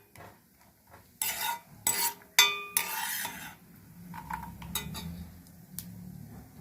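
Raisins tipped into hot ghee with fried cashews and almonds in a pan, heard as a series of close metal spoon scrapes and clinks against the pan over a faint, low sizzle.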